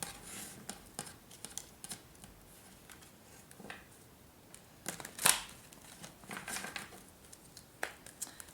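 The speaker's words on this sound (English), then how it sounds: "Let's just shuffle the deck a little bit more." Tarot cards being shuffled by hand, a soft riffling and patter of card edges in irregular bursts with occasional sharper snaps, fairly quiet and close, no talking.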